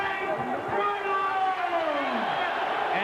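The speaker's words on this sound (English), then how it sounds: "And the bigger cheers are for Bruno." Boxing arena crowd cheering for Frank Bruno at the Lennox Lewis fight, a loud sustained roar of many voices with whistles, close commentator talk over it.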